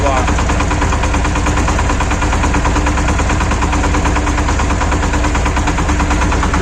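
A Shifeng 240 mini tractor engine runs steadily and loudly up close throughout, with a dense, rumbling, knocking drone, while the tractor works a homemade sprayer on a potato field.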